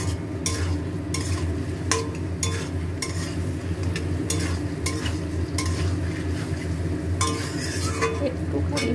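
Soya chunks and mushroom simmer in a pan, a steady low bubbling and sizzle running throughout, with occasional light clinks and scrapes of a utensil against the metal.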